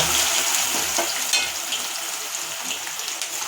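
Garlic frying in hot oil for tamarind paste, a loud continuous sizzle close up with faint stirring scrapes.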